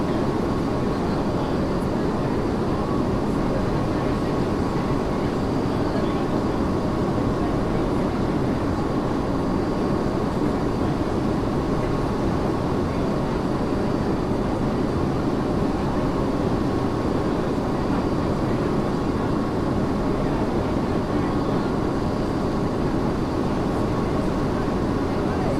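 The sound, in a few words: Airbus A220 cabin noise during descent to landing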